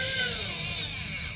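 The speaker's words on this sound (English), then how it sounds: "I'll screw this thing in." Small electric precision screwdriver driving a screw into pine wood, a high, thin motor whine with a gently falling pitch as it strains, close and steady, with no talking.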